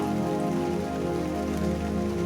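Steady rain falls across a surface in a dense, even patter of countless drops, continuous and close with no pauses or voices.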